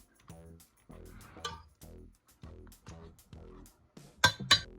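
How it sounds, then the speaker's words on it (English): A fork taps and clinks against a bowl while mashing soft plantain, a series of light metallic knocks in a steady rhythm, close, with two sharper clinks at the end. "As you can see, a fork works perfectly"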